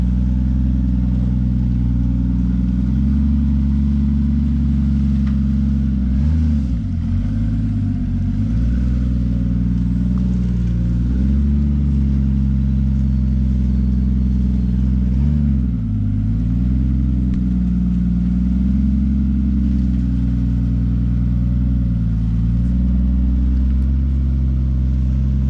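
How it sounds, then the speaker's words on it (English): A super truck's engine idles with a deep, steady rumble while the truck is moved in a garage bay, with a few brief revs or load changes rising and falling, loud and close throughout. "just gonna move the super truck so we can pull the super out for right now"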